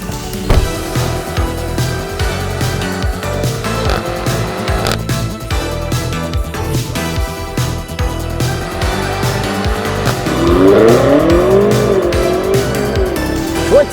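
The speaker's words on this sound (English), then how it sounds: "'21 BMW M5 Competition with launch control." A 2021 BMW M5 Competition launches hard under launch control, its engine roaring loud and close with steady, rising pulls through the gears and a tire squeal near the end.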